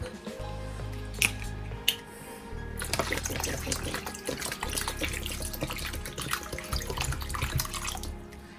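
Water pours from a bottle into a pot of beef and vegetable soup, a continuous splashing gush that starts after a couple of quiet clunks and a low hum, close to the microphone.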